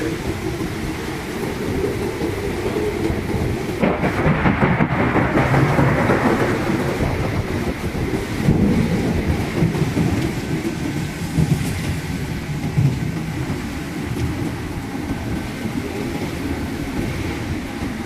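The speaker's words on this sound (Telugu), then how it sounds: "వర్షం మాత్రం గట్టి పడుతుంది. ఒక తుఫాన్ లాగా ఉంది, చిన్న తుఫాన్ లాగా" Heavy storm rain lashes a moving train, a dense, loud wash of noise with deep rumbling and the steady roll of the carriage underneath, continuous for the whole stretch.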